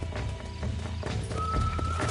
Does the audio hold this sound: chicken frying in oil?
no